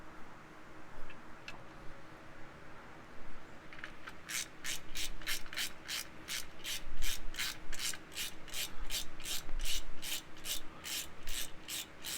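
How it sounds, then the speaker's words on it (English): A ratchet wrench torques the differential cover bolts back down on a Jeep Wrangler JL Rubicon 392 after a fluid change, giving a steady run of evenly spaced, crisp clicks close by after a few seconds of quiet handling. "Okay, I'm torquing these down."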